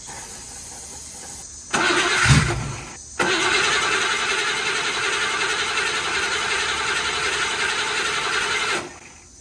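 The engine of a 1963 Buick Special that sat for years cranks with carb cleaner sprayed in: a short burst, a brief pause, then a long steady close cranking whir that cuts off near the end.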